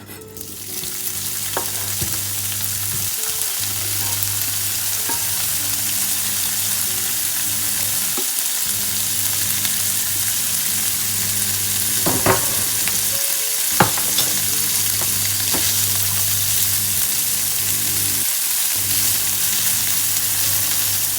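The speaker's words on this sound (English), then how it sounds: "you take the ham and just cut up and put it into the pan" Chopped ham frying in a hot pan at medium heat, a constant loud sizzle running on for about twenty seconds with a few sharp clinks of utensils against the pan.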